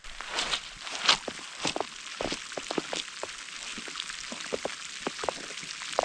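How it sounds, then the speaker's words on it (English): Rain beginning on an exposed mountainside, scattered close drops tapping and pattering irregularly on gear or ground, sparse and uneven rather than a steady downpour. "The rain's starting to come now."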